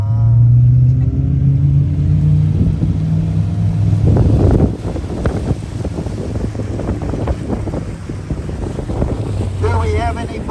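A tour boat's engine drones low and steady, under heavy wind buffeting on the microphone, with rough splashing and knocking bursts joining midway and a voice faintly audible near the end.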